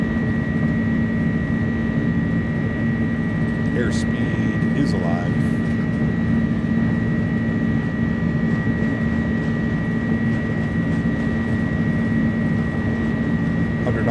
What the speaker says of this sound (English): toga is selected. Takeoff power is set.